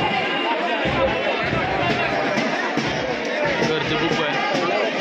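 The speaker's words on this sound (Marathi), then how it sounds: "गर्दी खूप आहे" A dense crowd bustles around a temple at Panhalgad, a steady wash of overlapping voices and footsteps close by, with someone talking over the hubbub.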